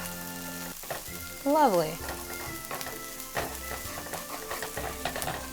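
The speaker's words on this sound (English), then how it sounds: "And you're just gonna basically scramble the egg." Egg scrambling and frying in avocado oil in a hot pan while hibachi chicken fried rice is cooked, a steady close sizzle with stirring scrapes, briefly under a short spoken word.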